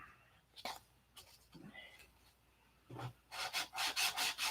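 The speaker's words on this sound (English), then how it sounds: "sanding all the dope down to the lows" Dope on a light airplane is sanded by hand in short rasping strokes, at first scattered and faint, then a rapid, louder run of rhythmic rubbing passes.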